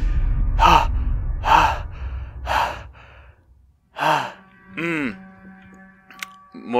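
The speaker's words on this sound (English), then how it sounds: "More heavy breathing." Heavy breathing sound effect in the horror video game Layers of Fear: a series of loud, close, ragged gasping breaths, several in a row, then a few sighing exhales with faint tonal game sounds behind.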